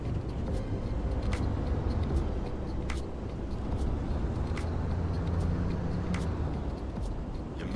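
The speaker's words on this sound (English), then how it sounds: "Maybe it's the car that's being a little loud here." A car engine in the video game Pacific Drive rumbles steadily and loudly throughout, with faint clicks and ticks over the constant drone.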